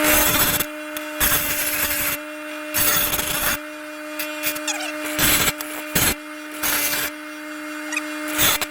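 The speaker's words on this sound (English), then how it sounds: "I'll grind this up and make it look real nice" Angle grinder working down a bumpy weld on a homemade steel roof rack, loud bursts of grinding broken by brief pauses, steady whine of the motor running throughout, close by with no talk.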